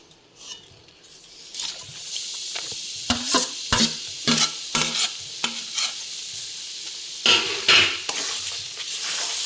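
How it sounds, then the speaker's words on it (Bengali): Grated coconut is stirred into melted sugarcane jaggery in a pan for narkel naru, with repeated scraping strokes of a spatula against the metal and a soft sizzle underneath, loud and close. "এবার নারকেল কোড়াটা আমি দিয়ে দিচ্ছি।"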